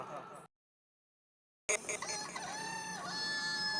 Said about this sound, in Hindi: मुर्गा सुबह सवेरे बांग देकर हमें जगाता है।